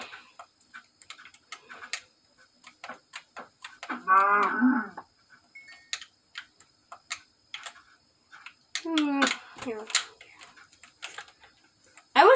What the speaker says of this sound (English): Get this cow real quick.